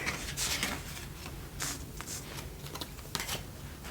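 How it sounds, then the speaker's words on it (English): Pokemon cards being flipped and shuffled using a larger card, giving close, soft papery slides and crisp flicks in an irregular, steady rhythm, with no talking. "I hope you don't mind me using the larger card to flip these around."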